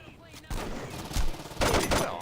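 Pistol shots in Saints Row 2, a few loud, sharp bursts of gunfire spread across a couple of seconds, with faint game noise in between.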